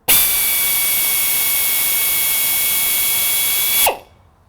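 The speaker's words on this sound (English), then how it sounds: "we drill a hole in the tube that we later on use to extract it." A power drill bores a hole in a coolant pipe on a BMW 7 Series engine, a loud, steady, high-pitched whine that starts abruptly, holds for almost four seconds and then winds down quickly.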